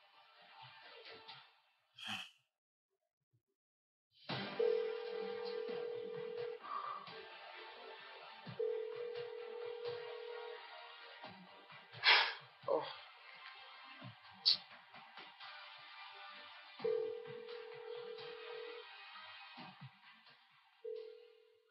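An unanswered phone call repeats its ringback tone in long, steady beeps separated by pauses. It stays faint beneath a murky background with occasional bumps and noises.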